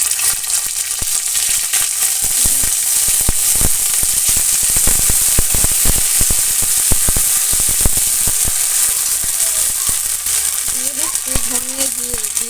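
Ginger paste, cumin, coriander and turmeric sauté in hot oil for a vegetarian bottle-gourd curry with lentil dumplings, giving a loud, steady, crackling sizzle with stirring. A faint voice rises near the end.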